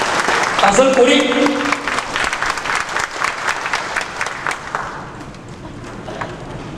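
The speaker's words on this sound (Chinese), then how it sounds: "掌声鼓励。" An audience claps in an assembly hall for a speaker at a 2000 meeting in Xinying, Tainan, a loud burst of applause that thins to scattered claps and fades, with a voice briefly heard at the start.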